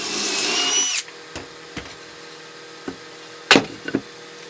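Cordless drill driving a 2.5-inch pocket hole screw into a wooden joint of a bandsaw station frame, one close, steady whir that stops abruptly, followed by scattered light knocks and clicks.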